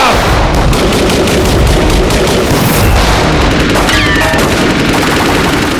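Rapid bursts of loud gunfire crack close by, shots overlapping in quick succession, with a faint ringing tone partway through.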